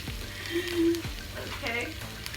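Onions and beef sausages sizzle in a frying pan, a soft steady crackle under a speaking voice, with a few clinks of a utensil against the pan.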